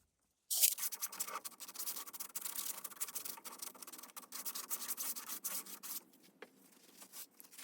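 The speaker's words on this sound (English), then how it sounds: "I just take a razor blade and scrape it." A razor blade scraping old glue off the wrap of a 1960s Gretsch round badge drum, a close, continuous rough scratching in uneven strokes that stops near the end.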